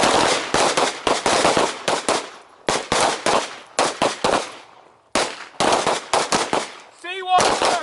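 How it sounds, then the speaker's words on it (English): Handgun shots fired during a combatives training class, in quick bursts of two or three sharp, loud reports separated by short pauses, with a brief whistle or voice near the end. "2 or 3 shots from each of those positions."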